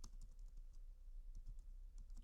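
Someone types a mkdir command on a computer keyboard in Ubuntu, a quick run of light, close key clicks at an uneven rhythm, faint and alone.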